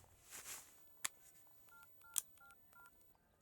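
A short series of telephone keypad tones as a phone number is dialed, several evenly spaced beeps after a couple of louder clicks, fairly faint against a quiet background.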